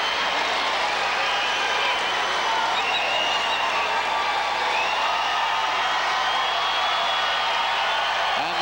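The Taylorville crowd at a 1997 IHSA Class AA girls basketball semifinal against Galesburg roars in sustained cheering and whooping, a loud, dense wash of voices filling the arena throughout.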